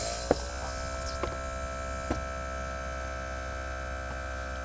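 A VIAIR TLC portable tire compressor runs as a steady, even electric hum with a constant motor tone, close and unchanging, broken by a few faint clicks.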